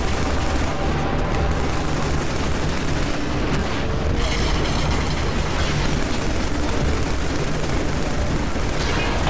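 Sustained gunfire and explosions from the Killzone 3 first-person shooter, dense rapid shots with booms and mortar blasts throughout, loud and continuous with no pauses.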